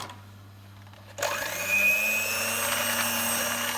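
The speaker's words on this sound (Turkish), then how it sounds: "Farklı mikserle devam ediyoruz" A quiet low hum gives way to the sudden, steady whir of an electric hand mixer whisking sugar for revani, loud and continuous to the end.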